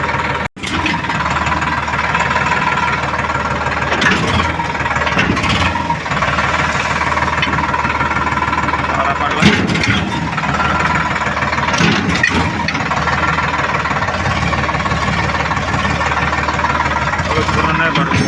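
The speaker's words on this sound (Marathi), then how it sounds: "ट्रॅक्टर फटका द्यावा लागणार आता." A tractor engine runs hard to power a soybean thresher on a farm, giving a loud, steady, rumbling drone that holds for the full length, with voices mixed in.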